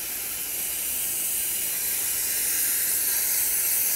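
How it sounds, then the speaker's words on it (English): A garden hose runs water gently into a water-maceration bucket used for cleaning animal skulls and bones, giving a steady, even hiss with no pauses and no voices. "I'll put the hose in there just real lightly"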